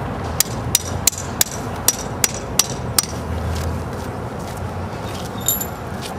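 Anchor nails hammered into the ground to secure an ERTEC Perimeter Guard barrier, a rapid series of about eight sharp metallic strikes at a steady rhythm, close and distinct over outdoor ambience.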